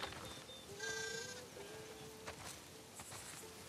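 Sheep bleat on a farm in The Last of Us Part II video game, with several wavering bleats at moderate distance over quiet ambience and faint footsteps.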